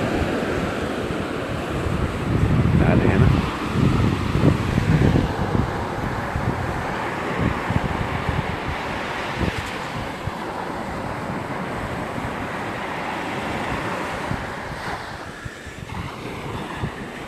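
Sea waves washing up a beach over writing in the sand, a continuous roar of surf with strong wind buffeting the microphone, a louder surge early on, then a steady wash fading slightly.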